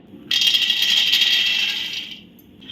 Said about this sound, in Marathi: आता हे शेंगदाणे आपण भाजून घेऊया